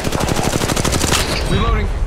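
Rapid automatic gunfire in the Apex Legends Mobile battle royale game, a dense run of loud evenly spaced shots over about a second and a half, then trailing off into softer gameplay sounds and effects.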